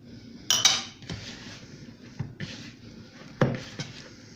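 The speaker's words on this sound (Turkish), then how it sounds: "Bu arada elimle yoğurmaya başlıyorum." Hands knead dough in a bowl with scattered knocks and clinks against the bowl's side. The sounds are irregular and close up, with quiet gaps between them.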